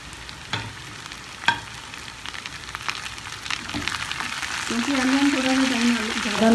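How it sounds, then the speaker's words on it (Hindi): Potatoes and green beans frying in a pan for an aloo beans masala fry, with a steady sizzle under clinks and stirring scrapes, growing louder and busier toward the end. "ਅਸੀਂ ਜਿਹੜੀਆਂ ਬੀਨਸ ਹਨ ਉਹਨਾਂ ਨੂੰ ਵੀ ਨਾਲ ਹੀ ਫਰਾਈ"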